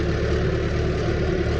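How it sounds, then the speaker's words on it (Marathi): A tractor engine runs steadily nearby on a muddy rural track in the rainy season, a low, even idling drone with a constant hum and no change in pace. "इकडं पळीचा ट्रॅक्टर चालू आहे."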